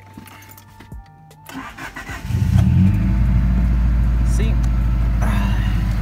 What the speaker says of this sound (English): I'm about to start the car right now.